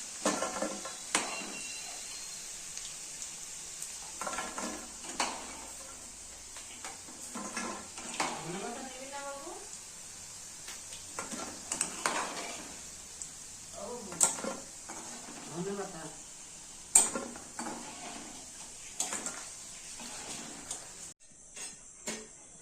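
Food browns to a reddish colour in a pan with a faint background sizzle, punctuated by scattered clinks and scrapes of stirring utensils against metal, while a person talks intermittently.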